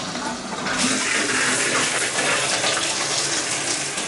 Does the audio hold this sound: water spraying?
yes